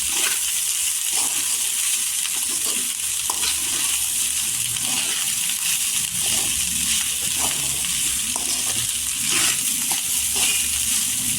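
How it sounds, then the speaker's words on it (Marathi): Leftover cooked rice being stir-fried in a pan with coriander, a steady loud sizzle throughout with scraping stirs of the spatula against the pan. "कोथिंबीर टाकल्यानंतर आणि इथे परतून घ्यायची"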